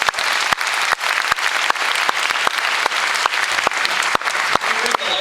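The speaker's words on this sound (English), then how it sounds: "Let's give another round of applause." A live audience gives a sustained round of applause, dense steady clapping from many hands with a few sharper individual claps standing out, close and full throughout.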